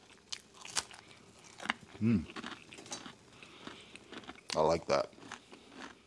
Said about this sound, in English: I like the sweetness from the dates and the crunch from the buckwheat crackers